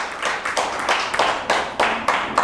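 An audience claps in rhythmic unison, with about seven evenly spaced bursts of many hands striking together at a brisk, steady pace and no talk over it.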